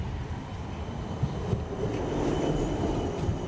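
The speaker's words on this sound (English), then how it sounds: "The actual tram is now arriving." A tram rumbles in with low mechanical noise, faint squeals and clanks over steady outdoor background, fairly loud and continuous, no talking.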